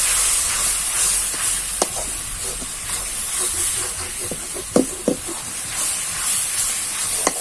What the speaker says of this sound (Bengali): এগুলোকে আমি ভালো করে মিশিয়ে নেব।